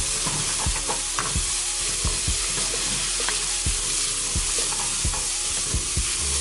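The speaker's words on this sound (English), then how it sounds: "So I'm gonna add my peppers and onions. And I'm gonna move that around." Peppers and onions sautéing in an oiled pan over low heat, a steady sizzle under repeated scrapes and stirring knocks of a utensil against the pan, close and fairly loud, with no talking.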